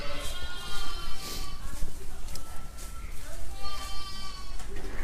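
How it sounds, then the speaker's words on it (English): Sheep and lambs bleat repeatedly, some close and some farther off, at a farm during lambing season, with outdoor wind and people talking now and then. "Apparently there's some sheep out at the pods."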